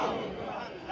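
A gathered crowd at a religious gathering roars a loud answer to a slogan call, a brief, dense burst of many voices together.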